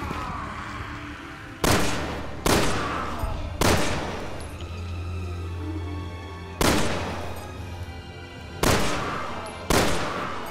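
Gunfire from the Resident Evil 6 video game, with about six loud, sharp shots spaced a second or more apart over a low rumbling game backdrop, each ringing out briefly before the next.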